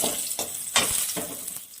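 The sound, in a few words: whole cumin and bay leaves sizzling in fish-frying oil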